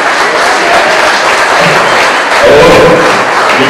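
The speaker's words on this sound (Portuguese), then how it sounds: "Aplausos." Dense, loud applause fills a wedding ceremony, a steady wash of many hands clapping close by with a few cheers rising near the end.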